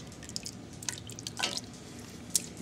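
Faint, sparse drips and trickles of liquid draining from an herb basket of twigs for French onion soup, a few soft plinks scattered over a quiet background.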